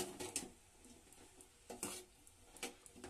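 Papaya pieces for homemade tutti frutti being stirred in hot syrup in a pot, giving soft scraping strokes and light bubbling sizzle, quiet and close with a few sharper utensil knocks.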